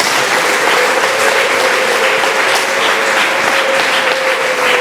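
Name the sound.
congregation applauding God in church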